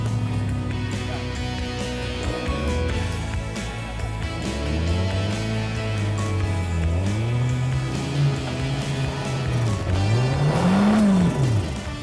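A turbocharged 4x4 rock crawler engine at an outdoor show revs up and down repeatedly, its pitch sweeping and rising in surges, loud and close, with no talking.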